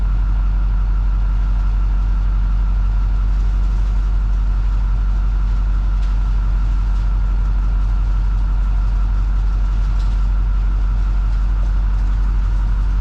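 A heavy snow plow truck engine idles steadily up close, a loud low rumble holding even throughout with no talking.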